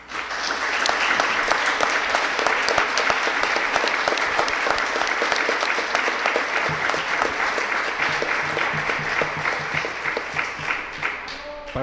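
A crowd at a music conversation event gives a strong, sustained round of applause, dense and close throughout, easing slightly near the end, with some voices faintly beneath.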